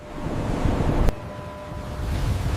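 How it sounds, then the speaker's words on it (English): Open-ocean waves heave and wind roars around a tuna fishing ship at sea in rain, a dense continuous wash with one sharp knock midway and no voices. "The ship turns into the wind. Floodlights cut through rain. The ocean heaves."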